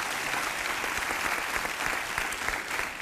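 Studio audience on a Portuguese TV music game show applauds, a dense, even wash of many hands clapping continuously for a few seconds with no voices on top.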